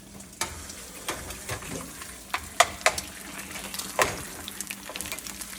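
Eggs and bologna frying in a pan, with a steady soft sizzle broken by scattered crackles and a few sharper pops from the hot fat, fairly close and with no talking.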